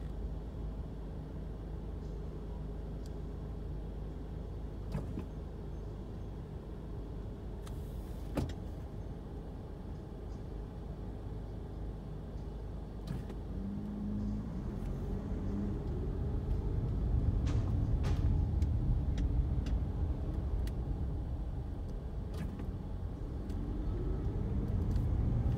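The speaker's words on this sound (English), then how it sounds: "We've we hit the rush hour in Apia, Samoa, so traffic is a problem" Rush hour traffic on a street in Apia, Samoa: a steady low rumble of car engines idling and creeping nearby, swelling slightly in the second half, with occasional faint clunks and no talk.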